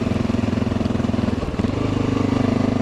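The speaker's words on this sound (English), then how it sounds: "The bike seems like it's riding better." An XR650L dual-sport motorcycle with a new clutch and tires rides along, its single-cylinder engine thumping in a loud, steady pulse with a slight dip and recovery in pitch midway.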